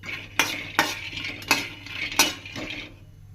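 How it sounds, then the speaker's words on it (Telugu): Peanuts are dry-fried in a pan in a village-style kitchen. A utensil scrapes and clinks against the pan about five times in a loose rhythm, with a soft rattle of the nuts in between, and no talk. "ఫ్రై చేస్తున్నాను వేరుశనగ పప్పు"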